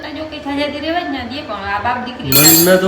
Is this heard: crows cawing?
no